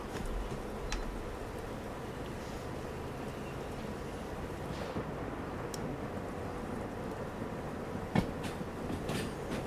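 A train in the game Derail Valley gives off a low, steady rumble of rolling wagons at a quiet level, with one brief clank late on and no speech.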